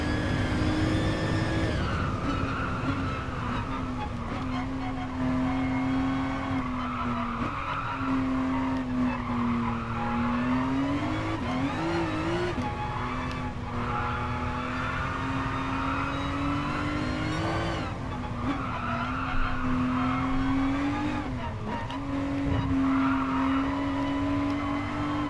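Race car in a sim racing game, engine whining steadily as revs rise and dip, with long stretches of tire squeal and skidding through corners, loud and continuous.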